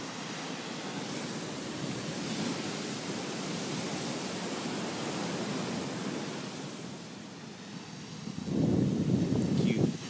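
Ocean surf rolls onto a beach at sunset, a continuous broadband roar of breaking waves that swells into a louder crash near the end.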